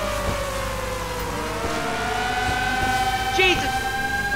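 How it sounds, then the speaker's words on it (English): A rising and falling siren wail sounds over a steady engine drone with clattering game noise in Grand Theft Auto V, the siren clearest near the end. "Do you not hear the siren?"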